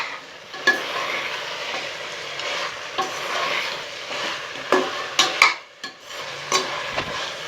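Country chicken salna ingredients sauté in a hot pan, a steady sizzle broken by repeated scraping stir strokes and clinks of a spoon against the pan, close and alone.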